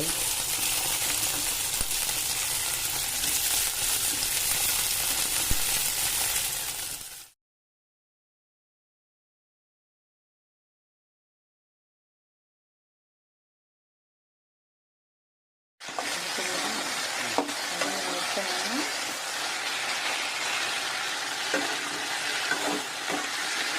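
Veld grape (pirandai) sautés in hot oil with a steady broadband sizzle and stirring, cut by a stretch of dead silence midway before the frying noise returns at the same level.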